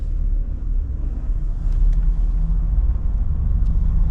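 A truck crawls through slow Thursday-evening traffic near Chicago, heard as a steady, loud low rumble of engine and road noise with a faint wind hiss and no talking.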